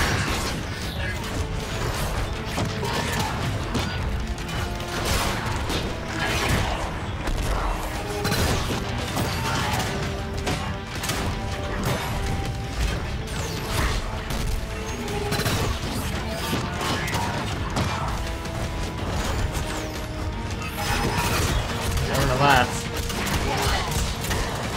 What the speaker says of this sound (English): Ember's barrage of shotgun bullets.